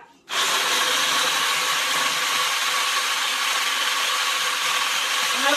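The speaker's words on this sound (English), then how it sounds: "now I've got my egg whites and I'm gonna go ahead and whip those" An electric mixer starts abruptly and runs at a steady, loud, even whine while whipping room-temperature egg whites with half a teaspoon of lemon juice, with no pauses.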